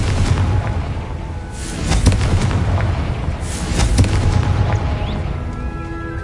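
Repeated heavy booms from Confringo fire-blast spells in the game Hogwarts Legacy, several loud, close explosive bursts with crackling, layered over a continuous rumbling bed of noise.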